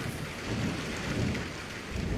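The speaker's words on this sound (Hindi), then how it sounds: "बारिश तो बहुत ज्यादा है" Heavy rain pours steadily outdoors, a dense continuous roar with low rumbling that may be distant thunder, alone with no talking.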